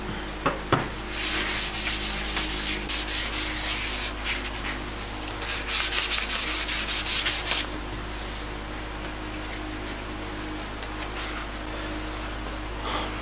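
Steady rubbing strokes of a sanding pad on a birch vanity's finish, louder in bursts then easing off, with a constant low hum underneath.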